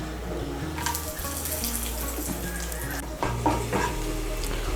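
Whole garam masala of cardamom pods, cloves and a piece of cinnamon frying in hot oil, giving a steady close sizzle and crackle with faint clinks of stirring throughout.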